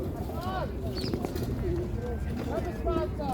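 Soft coos and chirps of caged birds at a busy bird market in Edirnekapı, Istanbul, with people talking throughout and steady crowd noise in the background.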